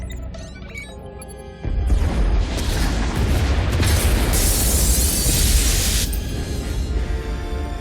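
In the Star Wars: The Old Republic video game, a massive explosion destroys the escape pod bays. A quieter hum breaks into a sudden, loud, sustained roar of blasts and rumbling debris that lasts several seconds.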